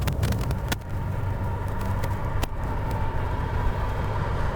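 A Fisker Karma drives in full electric mode with no engine note. A steady rumble of tires and road noise fills the cabin, broken by a few sharp clicks and knocks.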